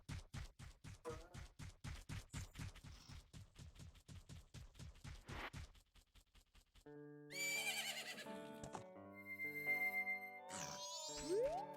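Horse sounds from the Majora's Mask video game: a rapid rhythmic clip-clop gallop, then game tones and a whinny-like neigh among bright synthesized effects, fairly faint overall with no talk.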